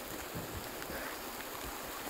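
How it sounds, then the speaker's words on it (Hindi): Heavy rain falls steadily as a dense, even hiss that holds at the same level from start to finish, with no voices. "बारिश हो गई है तेज़ काफ़ी"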